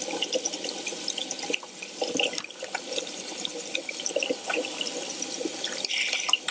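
A faucet runs into a sink during hand washing, a steady, fairly soft stream with small splashes and drips throughout.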